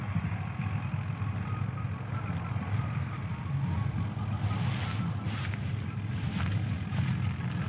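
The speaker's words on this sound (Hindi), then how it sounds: "हम दिखाने रीपर चलता, वो देखो कि स्लो स्लो चलता।" A tractor-driven reaper runs slowly through a soft, wet wheat field, giving a steady low engine rumble and mechanical drone that holds constant and fairly close, with no talk.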